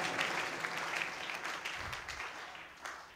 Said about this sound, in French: Acclamez très fort le roi des rois